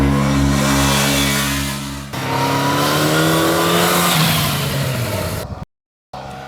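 A 2011 Yamaha FZ8 naked middleweight motorcycle engine revs hard and loud, rising in pitch through the gears, then cuts off abruptly into a brief silence before resuming.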